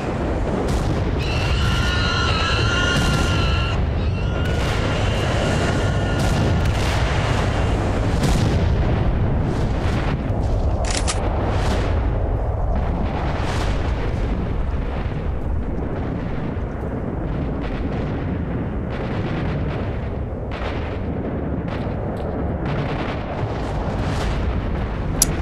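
Repeated heavy booms and blasts of rocket fire in the STALKER Shadow of Chernobyl game near the Chernobyl power plant, a dense, loud, continuous barrage with rumbling explosions throughout.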